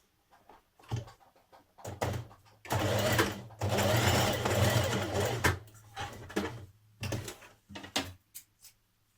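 A sewing machine stitching fabric pocket seams for a dress, running in several bursts of whirring motor and needle rattle, one longer steady run in the middle, with short stops and starts.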